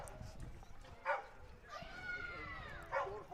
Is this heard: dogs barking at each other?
yes